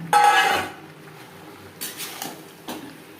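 Pointed gourd and pre-fried potato pieces tipped into a hot pan of cooked spices for a vegetarian aloo potol curry: one loud clattering drop with a brief sizzle, then a few softer scrapes and taps of a spoon against the pan.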